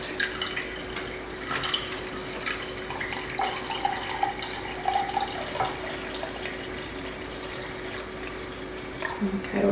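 Water poured from a container onto a scale for weighing in soap making, a thin trickling splash with small drips and pauses under a faint steady hum, close by.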